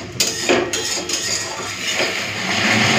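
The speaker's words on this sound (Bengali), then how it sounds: "এরপরে মশলাটাকে ভালো করে কষে নেব।" Spice paste of chilli, cumin and coriander powders frying in oil while a metal spatula scrapes and clinks steadily against the pan, close and continuous with a sizzling hiss underneath.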